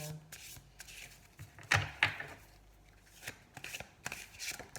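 Cards are shuffled and drawn from a deck, producing soft close riffling and flicking bursts with light taps, fairly quiet and intermittent.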